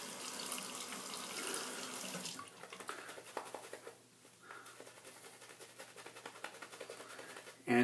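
Water runs steadily from a bathroom tap for a couple of seconds while someone wets their face before shaving, followed by quieter splashing and handling sounds.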